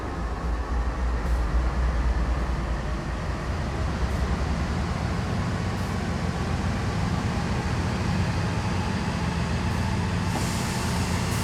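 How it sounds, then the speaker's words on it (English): A heavy freight train in the Train Sim World 2 game on the Sand Patch Grade route pulls away from a stop, giving a steady loud rumble and deep diesel drone that holds on without pause and has no talk over it. "This train is ready to go. Pull the indicated handle all the way back to get moving."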